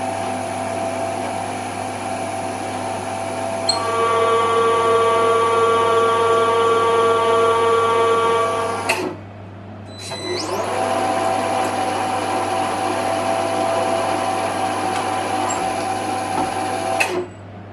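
A milling machine cutting metal at about 160 RPM with kerosene as coolant, a steady tonal whine and hum that drops out briefly, then resumes loud and continuous.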